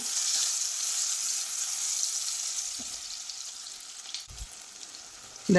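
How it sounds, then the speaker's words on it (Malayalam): Sliced nendran plantain fries in hot ghee, giving a steady soft sizzle with a few faint utensil taps and a brief scrape near the end. "ഇനി ഇതിലേക്ക് ഒരു നേന്ത്രപ്പഴം ചെറുതായി കട്ട് ചെയ്തെടുത്തിട്ടുള്ളതാണ്, അതുകൂടി അതിലേക്ക് ഇട്ട് കൊടുക്കാം. ഇതുകൂടി ഒന്ന് ചെറുതായി ഒന്ന് ഫ്രൈ ചെയ്തെടുക്കാം."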